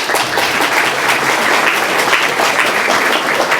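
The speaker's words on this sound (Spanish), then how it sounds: "Un fuerte aplauso." Loud, dense applause from an audience at a book presentation ceremony in San Francisco de Macorís, a steady wash of many hands clapping without pause.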